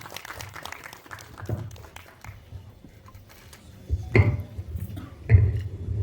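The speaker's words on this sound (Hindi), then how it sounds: "जोरदार तालियां।" Applause at a Delhi press conference welcoming Nimrat Khaira, a patchy scattering of claps with low murmuring crowd noise and a couple of louder bursts of clapping toward the end.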